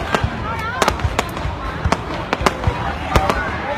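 Fireworks bursting in the night sky, a rapid irregular string of sharp loud cracks and booms with crowd noise and voices beneath.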